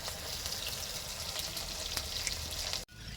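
A pot of thin fish broth with bottle gourd stems, potato, papaya, green chilli and ginger paste simmers outdoors at a picnic. It gives a steady bubbling, sizzling hiss with no talk, ending in a sudden brief drop.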